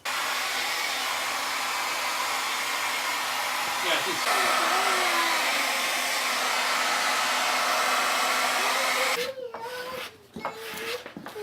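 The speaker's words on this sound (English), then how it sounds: "I could grab the blow dryer or the heat gun and just Try the blow dryer, see what happens." A blow dryer runs at a steady, loud whoosh for about nine seconds, then cuts off abruptly, leaving a few brief clatters and quieter sounds.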